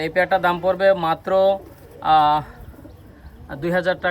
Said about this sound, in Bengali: কত সুন্দর কবুতর ভাই